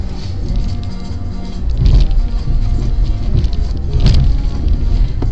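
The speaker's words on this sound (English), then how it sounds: "I'm in Patrick's car" A steady, close rumble fills the inside of a moving car, with broadband road and engine noise and a couple of brief swells, no talking.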